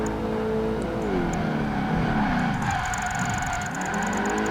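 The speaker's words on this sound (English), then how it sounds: "So here again with the drift, to not lose the combo." Car sliding through a drift in the racing game Project Gotham Racing 2, a loud continuous engine note with shifting pitch and tyre noise, steady throughout with no talk.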